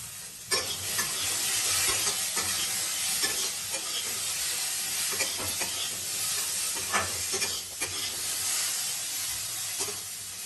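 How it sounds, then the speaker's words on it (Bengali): Potatoes with salt and turmeric are stirred and fried in a pan, cooking for stuffed pointed gourd made without onion or garlic. A steady close sizzle runs throughout, broken by repeated scraping stirs of the spoon. "আলুতে নুন হলুদ দিয়ে নেড়ে নিচ্ছি।"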